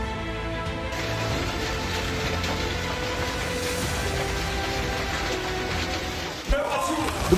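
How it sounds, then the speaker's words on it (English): Hail pelting down in June in Germany, whitening a blue soccer field, a dense, unbroken hiss of pellets striking surfaces that holds steady, with a few sharper knocks near the end. "The blue soccer field is gradually being covered in white because of this hailstorm."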